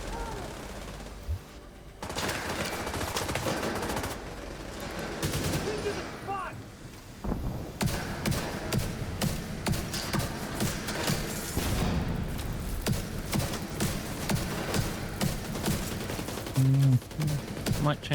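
Video game gunfire comes in rapid automatic bursts and scattered single shots with heavy thuds, loud and continuous, while a player talks at times over the shooting.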